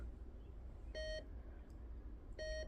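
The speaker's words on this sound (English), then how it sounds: "So it beeps. As it beeps, it increases in volume." Two short electronic beeps from a document-scanning device powering on, about a second and a half apart, clean steady tones over a quiet background, the second slightly louder.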